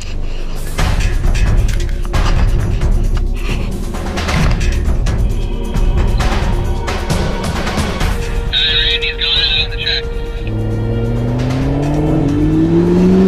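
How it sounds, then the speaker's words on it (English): A McLaren P1 on a race track accelerates hard, its engine roaring loud and close with rising revs and a climbing gear whine toward the end. "Heading out on the track in the McLaren P1."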